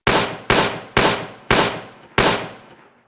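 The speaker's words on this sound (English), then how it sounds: "gunfire. Loud. Fast. Sharp." Five sharp, loud gunshot-like bangs, evenly spaced about half a second apart, each with a short decaying echo.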